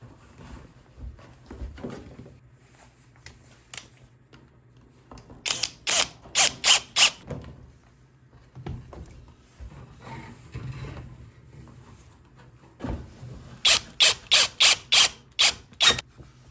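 Screw-in washers are driven into each side of a board, heard as two bursts of rapid ratcheting clicks, each lasting a couple of seconds, with quieter handling noises between them.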